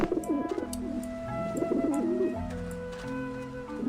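Pigeons coo in the video game Grim Fandango: soft, throaty, warbling calls repeat close by over a steady musical background.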